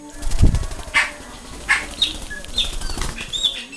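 A guaranjanga, a Brazilian blackbird, flapping its wings in flight close by, giving several loud fluttering bursts amid the bird's high chirps and squeaks.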